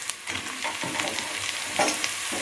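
Tomatoes sautéing with softened onions in a pan, a close, continuous crackling sizzle broken by repeated scraping stirs with a spoon, no voices.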